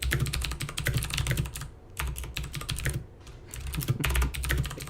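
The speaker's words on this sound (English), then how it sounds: "Typing. I know." A computer keyboard clatters with fast, continuous typing, dense clicky keystrokes in bursts with a few short pauses, close and steady with no talk.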